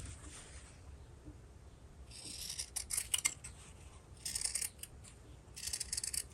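Scissors snip along the sewn seam of a small fabric mini makeup pouch with no interfacing, several bursts of close, crisp cutting with short pauses between them, no talking.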